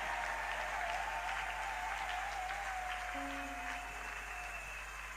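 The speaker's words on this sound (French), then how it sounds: "Quand il avance, on acclame très fort pour le Seigneur." A church congregation applauding and cheering, a dense sustained wash of clapping with voices and tones rising through it, heard at a distance and fairly faint.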